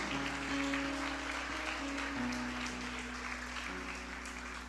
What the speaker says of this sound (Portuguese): Quer aplaudir a palavra de Deus?